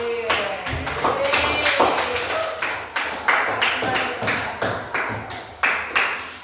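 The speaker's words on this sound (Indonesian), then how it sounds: "Tepuk tangan dulu buat kelompok A." A class of ninth-grade students claps for a group, rhythmic and fairly close, with distinct sharp claps repeating in a steady beat.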